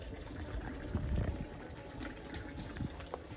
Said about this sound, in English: so go pour in my oil now.